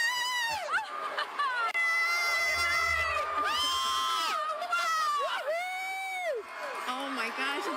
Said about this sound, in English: the crowd is counting down